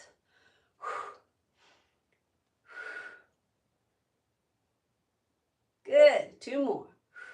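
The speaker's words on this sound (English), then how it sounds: "Inhale, exhale, 1 and 2, 3, 4." Deep breaths during a morning exercise routine: two soft, separate breath sounds come early with quiet gaps between, then two louder, voiced exhales arrive close together near the end.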